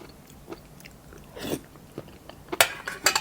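Crunchy chewing of bamboo shoot curry with black mushrooms and plenty of red ant eggs, close-up bites and crunches that grow louder and denser toward the end.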